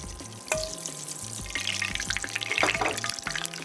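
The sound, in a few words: olive oil sizzling in hot pan for risotto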